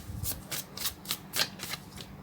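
Tarot cards being shuffled and drawn, with a series of crisp riffling bursts in an uneven rhythm, close and fairly quiet with no voice over them.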